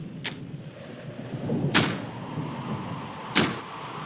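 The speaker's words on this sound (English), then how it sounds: "That's just the wind banging a door" A door banging in the wind, three sharp, loud knocks spaced over a few seconds against a low rumbling background in an old house.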